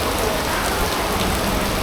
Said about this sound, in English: Well, that is the rains in Udupi. Man, it is raining cats and dogs.